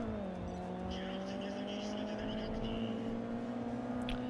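Old rear-wheel-drive BMW race car in Grid Autosport: a steady, droning engine note climbing slightly in pitch as it pulls, continuous for four seconds with faint tire noise, heard close as if from the cockpit.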